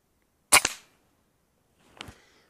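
Two sharp, snappy air rifle shots about a second and a half apart, the first louder and closer, the second slightly softer, with quiet between.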